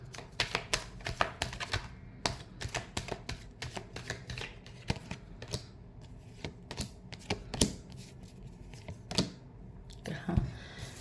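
Tarot cards shuffled close up in a rapid run of crisp riffling flutters and slaps, irregular bursts continuing throughout with occasional quiet pauses.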